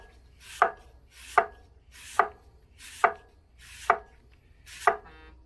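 A knife slices through a crisp Honeycrisp apple on a board, six sharp crunching cuts at an even, unhurried pace. Each cut is close and clear against a quiet background.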